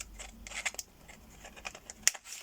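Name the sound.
Fiskars scissors being handled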